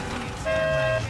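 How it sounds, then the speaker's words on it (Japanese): A car horn sounds in the Need for Speed Payback video game: a short, loud, bright blast that is held for about half a second, heard alone over a low engine hum. "私はこのクラクションを2回鳴らしまし"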